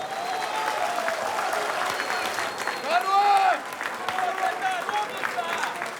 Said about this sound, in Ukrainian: Оплески для Айдара!